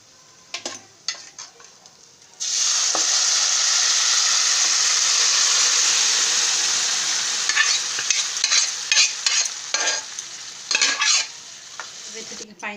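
A steady loud sizzle of food frying in a pan, preceded and followed by scraping stirring sounds, with no voices.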